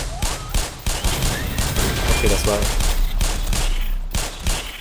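Rapid gunfire from the Black Mesa game, several shots in close succession, loud and near, with someone speaking over the shooting.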